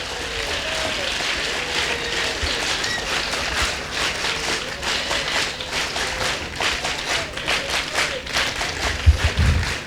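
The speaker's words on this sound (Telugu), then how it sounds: "ఒకసారి క్లాప్స్ కొడితే చాలా సంతోషంగా ఉంటుంది" An audience at a college award ceremony claps steadily throughout, a dense, sustained patter of many hands with slight swells, a louder burst near the end.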